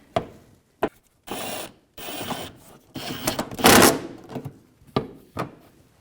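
A hand ratchet with a 10mm socket works a fender bolt on a 2009-2014 Nissan Maxima, giving several short separate bursts of rapid clicking between silences, close and fairly loud.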